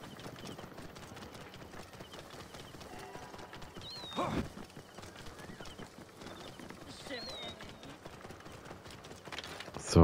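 Horse hooves clip-clopping at a steady gallop in Assassin's Creed Origins, a continuous rhythmic patter under ambient game sound, with a brief louder thump midway and a rising burst at the end.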